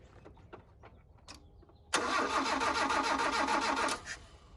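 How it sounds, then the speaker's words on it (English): 1983 Mazda B2000 engine cranking over with a fuel line run straight to the carburetor, a sharp loud onset of steady rhythmic starter churning that runs about two seconds before stopping, after quiet clicks and handling noises. "We are going to fire it off"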